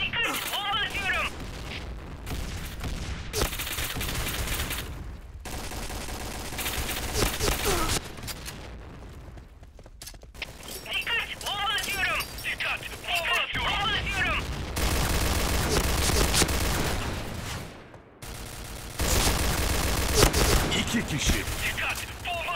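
A video game firefight with thrown bombs: dense bursts of gunfire and thuds come in loud clusters separated by brief lulls, with a voice talking over much of the action.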